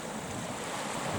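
Ocean swell surges onto a narrow strip of beach at high tide, a continuous loud roar of breaking surf with wind buffeting the microphone.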